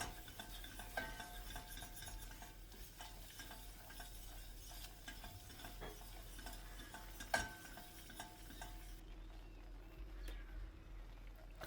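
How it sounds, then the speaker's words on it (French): Flour being stirred into a roux in a pan for hünkar beğendi, a steady scraping and sizzling that runs throughout with a brief louder clink near the middle. "Je verse 50 g de farine et on mélange."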